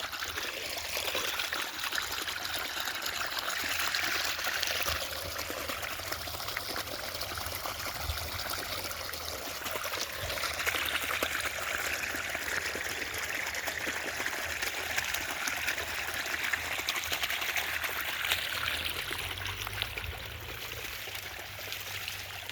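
Water pours steadily from a broken tank pipe outdoors in muddy ground, a continuous trickling gush that holds at an even level throughout, heard alone without speech.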